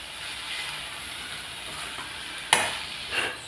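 Cluster bean masala poriyal being stirred in a pan, a steady soft sizzle with a sharp scrape of the spoon near the end followed by a second fainter stroke, no talking.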